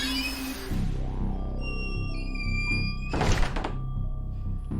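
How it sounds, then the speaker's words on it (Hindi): A door in an old haunted mansion creaks open on its own for a horror tale, with a heavy thunk, a descending groan and a bright swelling shimmer, set against a constant low rumbling bed. "दरवाज़ा अपने आप खुला।"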